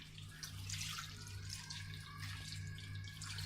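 Water pours steadily into a pot of pork seasoned with turmeric and salt, a close, continuous splashing gush over a low background hum.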